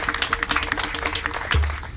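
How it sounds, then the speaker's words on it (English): A community conference audience breaks into applause, a close, continuous patter of many hands clapping for the full two seconds. "Can we give them a round of applause?"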